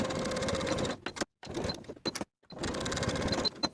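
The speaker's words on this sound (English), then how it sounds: "Sew the facings in place here with a 5/8 inch seam allowance." A sewing machine stitches the facings of a cozy knit cardigan with a 5/8 inch seam allowance, running in a steady burst, pausing, giving a few short stutters, then running smoothly again, close and clear.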